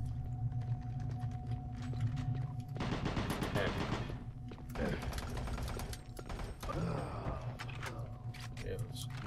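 Shotgun blasts from the video game Doom 3 BFG Edition, with several loud bursts and rattling gunfire over a steady game soundtrack while players talk throughout.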